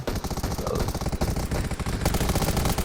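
A Gatling gun firing in the video game Undawn, a dense, unbroken stream of rapid shots, loud and close throughout.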